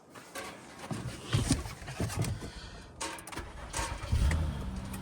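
A Honda car's engine cranks over and starts right up, loud and close, its broadband rumble rising in a couple of surges before the idle settles in.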